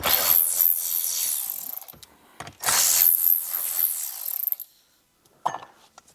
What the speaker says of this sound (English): Next, we're just going to remove the radio. Same thing, 4 screws.